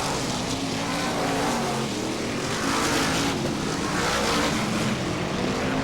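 BriSCA Formula 1 stock cars racing at Northampton, several engines droning loudly together in a continuous rough roar that swells and fades slightly as the pack runs down the far side.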